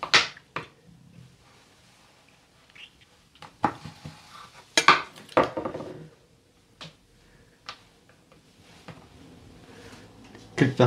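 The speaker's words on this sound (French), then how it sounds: "Vous allez la couper dans le sens de la longueur pour en faire deux" A Kinder chocolate bar sliced lengthwise with a knife in a home kitchen: several sharp, close clicks and taps against a board, spaced irregularly with quiet gaps between them.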